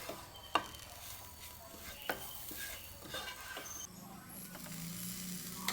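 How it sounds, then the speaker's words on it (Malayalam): Green chillies, chilli powder, coriander powder and masala stirred in a pan for restaurant-style chicken curry, a faint low sizzle with a few soft spoon clicks against the pan, close and quiet with no talk. "നല്ലോണം ഇതൊന്ന് ഇളക്കി വഴറ്റിയെടുക്കാം"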